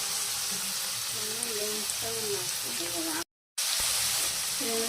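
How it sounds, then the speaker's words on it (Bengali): Potatoes frying in a pan, a steady close sizzle and crackle with a voice talking faintly over it and a brief abrupt dropout to silence before the frying noise resumes. "আলুটা আমার ভাজা হয়ে গেছে। এবার আমি ফুলকপিগুলো দিয়ে দিলাম।"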